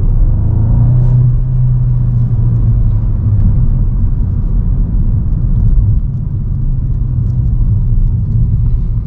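A Volkswagen MK8 Golf GTI Clubsport driven on wet roads, a steady loud low engine and road rumble from inside the cabin, with a brief rev rise early on and no talk.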